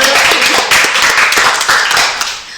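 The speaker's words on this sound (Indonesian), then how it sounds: "Boleh tepuk tangan dulu." Audience clapping during a school podcast session, a dense, steady patter of many hands that fills the clip and fades slightly at the end.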